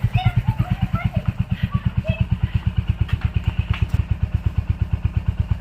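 A motorcycle engine runs close by in a village, its rapid, even low thumping pulse holding steady throughout, with faint chatter and bird chirps in the background.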